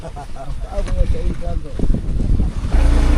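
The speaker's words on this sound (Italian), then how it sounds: "Ma bella piena la barchetta e anche bella movimentata sul lago" A small, crowded boat travels across a choppy lake at high altitude, with engine rumble, wind and water noise running steadily throughout and people talking close by over the top.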